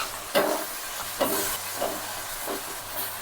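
Chopped brinjals, soaked in salted water, hit a hot pan for a vankaya egg curry, each addition bursting into a loud hiss and sizzle; four or five close, rhythmic surges fade between drops.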